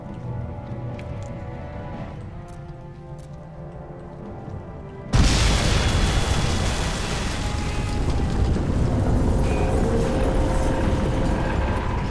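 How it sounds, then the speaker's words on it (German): An explosion in the video game Crysis 2 Remastered: a sudden loud blast breaks in after a quieter stretch and gives way to a sustained, dense roar of rumble and debris that carries on to the end. "Explosion unmittelbar bevorstehend."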